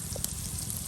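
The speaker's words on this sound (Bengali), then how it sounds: "এখন এটাকে সুন্দর করে আপনার তেলে ভেজে নেওয়া হবে" Chopped onion and chili frying in hot oil, a steady close sizzle and crackle holding at an even level throughout, with no talking.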